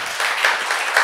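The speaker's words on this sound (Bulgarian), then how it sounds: "още аплодисменти, за да разберем дали сме се справили добре с представянето на книгата" Applause at a poetry book launch, a short burst of clapping from a small audience that is close and fairly loud and lasts about a second.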